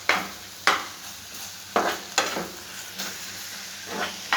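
Okra deep-frying in oil with chilli, turmeric and coriander powder hisses steadily up close, broken by several sharp scraping stirs of a spatula against the pan.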